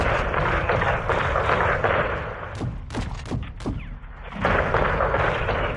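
Air strike explosions hit a building in the Call of Duty: Modern Warfare 2 campaign, with several sharp, heavy booms clustered in the middle over a loud, dense rumble of battle noise.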